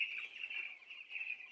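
Chickens on a small farm of about 400 birds built over a pond, a faint, continuous chorus of high clucking and chirping heard from a distance, with no talk.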